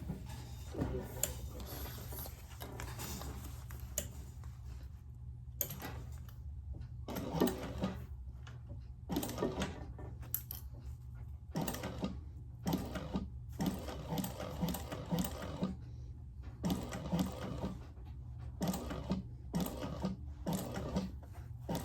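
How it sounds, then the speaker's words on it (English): A sewing machine runs in short, careful bursts while stitching around the curves of a laptop bag, with brief stops between stretches of steady mechanical whirring, fairly quiet and close, no voices. "we're going to sew around those curves"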